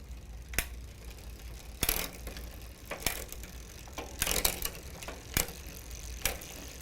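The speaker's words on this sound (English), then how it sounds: "So this is just kind of an example of shifting through gears." A bicycle rear derailleur shifts through the gears with a series of sharp clicks and ratcheting bursts spaced irregularly over a low freewheel whir, close and without talk.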